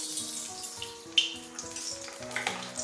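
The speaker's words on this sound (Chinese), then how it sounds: "将锅烧热，下入少量的食用油" Cooking oil heats in a hot wok, giving a soft, steady sizzle and faint crackle at close range, with a single sharp tick partway through and light kitchen background; no one speaks.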